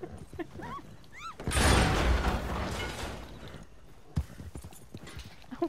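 Horse hooves clip-clop in Red Dead Redemption 2, quick rhythmic hoofbeats broken by a loud burst of noise in the middle, all fairly faint and close.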